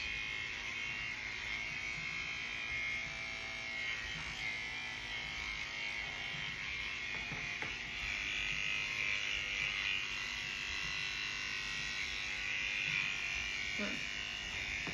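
Electric hair clippers hum with a steady close buzz throughout a beginner's home haircut, while voices talk faintly in the background.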